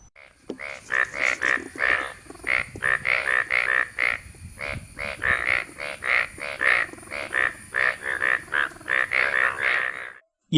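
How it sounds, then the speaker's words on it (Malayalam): Indian bullfrogs gather for mass breeding near a sacred grove and croak in a dense, continuous chorus of rapid pulsing calls, loud and close, with no pauses. "പോക്കാച്ചി തവളകളുടെ കൂട്ടത്തോടെയുള്ള പ്രജനനം നാട്ടുകാർക്ക് ദൃശ്യവിരുന്നായത്"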